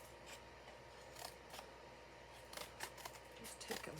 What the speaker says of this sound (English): I'm gonna maybe cut it like this.